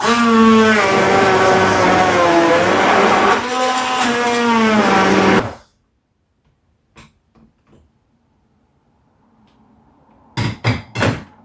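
A kitchen blender whirs loudly and steadily while mixing apple, peach, banana and milk into juice, its motor shifting pitch, then stops abruptly; after a pause come a few light taps and three sharp knocks.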